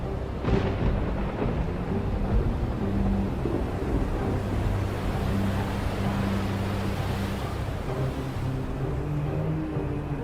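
Steady, dense rumbling roar of a heavy storm with thunder and wind, a low booming swell near the start and constant wind-like noise throughout; no voices.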